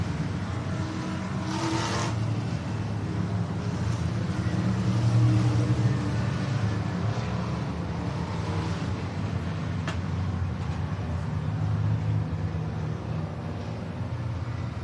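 Race cars roar around the oval at Needmore Speedway in Norman Park, Georgia during a Super Street feature, a steady distant engine drone that swells and fades as the pack passes.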